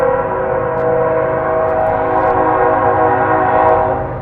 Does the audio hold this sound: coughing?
no